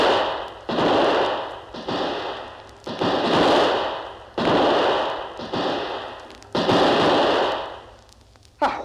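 Gunshots fired at attackers, a run of about seven loud, close blasts at roughly one-second intervals, each with a long rolling echo decaying into the next.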